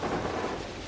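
A thunderclap rolls through a storm in the Pathologic video game, a loud, dense rumble with rain hissing steadily beneath it for the whole second, with no voices.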